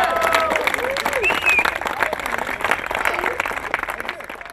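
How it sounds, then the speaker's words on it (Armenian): A crowd applauds at a Multi Force 2017 event held after the giveaway of a Jeep Wrangler, with dense loud clapping throughout, cheers rising over it and voices talking underneath. "ծափարենք Դավիթ"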